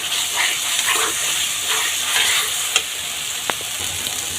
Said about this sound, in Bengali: এখন আমি এর মধ্যে মাংসগুলো দিয়ে দিলাম।